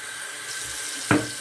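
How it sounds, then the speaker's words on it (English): Warm water runs from a tap into a Fuji mug as a steady, close rushing stream, with a brief sharper splash or clunk near the end. "I'm going to fill up my Fuji mug again"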